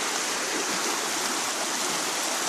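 A creek swollen with lots of water rushes past, a loud, constant broadband roar like a small waterfall that never lets up, with no voices over it.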